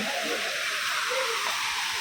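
A waterfall in Namakkal, flowing again after a long dry spell, gives a steady, broad rushing roar that holds constant and close with no voices.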